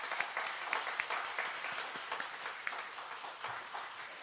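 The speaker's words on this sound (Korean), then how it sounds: "다시 한번 뜨거운 축복의 박수 해주시길 바랍니다." Congregation applauding at a church anniversary service for ordination and retirement, moderately quiet, steady clapping with a few sharper claps over about four seconds, no talk.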